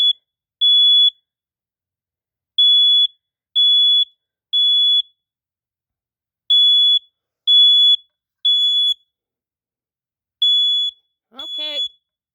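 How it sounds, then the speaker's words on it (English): A 2005 Family Gard FG888D smoke alarm chirps in short, sharp beeps, in bursts of two or three with pauses between, then a brief warbling squeal at the end. "it's called the Smoke Alarm, or as in Spanish, Alarma humo"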